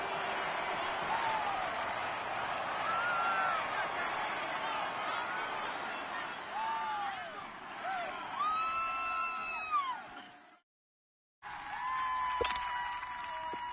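A stadium crowd in an American football video game, Seahawks against Packers, cheering and whooping loudly in a sustained roar, with whistle-like calls rising near the end and a brief dropout before the cheering resumes.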